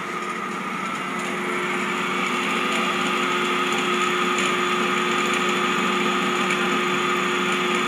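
A steady electric motor, fed from a single- and three-phase AC-DC converter in a lab and loaded near its rated current, runs at about 823 RPM with a continuous whine and a strong hum, unchanged throughout.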